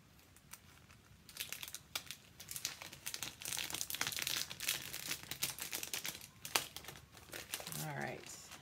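A sheet of Halloween-phrase transfers is cut up, with crisp crinkling and rustling of the sheet that swells and fades, close by, and a brief voice near the end.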